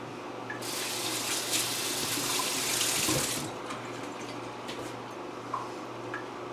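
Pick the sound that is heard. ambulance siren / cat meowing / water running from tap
water running from tap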